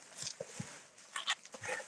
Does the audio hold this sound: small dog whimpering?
yes